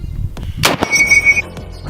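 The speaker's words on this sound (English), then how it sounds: "here's our 20mm cannon" A 20mm anti-tank rifle fires outdoors once, a single loud sharp blast with a brief ringing tail, close by amid background noise.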